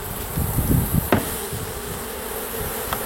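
A steady, dense buzzing of many honeybees at a hive as they are shaken off a frame, with a few soft low thumps near the start and a brief sharp tap.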